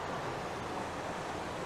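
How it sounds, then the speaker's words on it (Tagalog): Wind gusting across a microphone outdoors on a mountainside, a steady broadband rush and rumble that stays constant and close, with no voices. "Hindi ako makapagluto ng maayos kasi humahangin."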